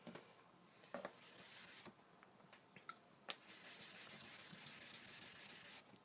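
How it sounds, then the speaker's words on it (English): A knife tip is drawn across a whetstone in soft, steady strokes, a faint hiss with a few sharp scrapes, heard close up with no talking. "Sharpening the tip."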